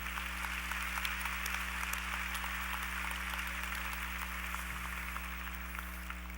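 Audience applause at a university fall commencement ceremony, a steady sustained patter of many hands clapping, heard somewhat distant under a constant low hum of the hall's sound system.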